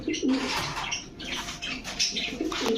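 Domestic pigeons cooing at close range, several soft throaty coos overlapping with faint chirps and a rustle of wings, no talk.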